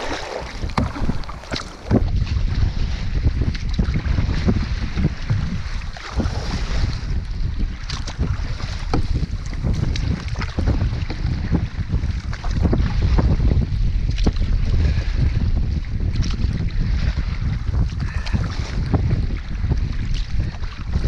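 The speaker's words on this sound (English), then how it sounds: "And here comes the wind." Strong west wind roars steadily over open water while canoeing across a bay in the Labrador wilderness during a storm, with buffeting gusts on the microphone and lapping waves alongside, rain and a little hail falling.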